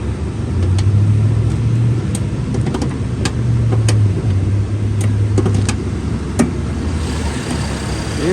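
A restored 1992 Chevrolet S-10 street rod runs at a steady, loud, low rumble throughout, with faint clicks and rattles on top and no speech.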